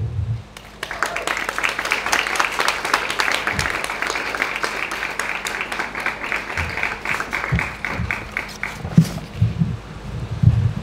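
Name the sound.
audience applause for Lupe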